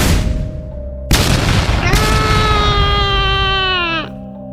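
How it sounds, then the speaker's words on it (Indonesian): Small explosions destroy enemy war equipment in a battle between the kingdoms of Astinapura and Pragalba: a sharp blast lands about a second in, another follows, then a loud rumbling din with a high, sustained wailing tone that cuts off near the end. "Ledakan kecil terdengar saat mereka menghancurkan peralatan tempur musuh"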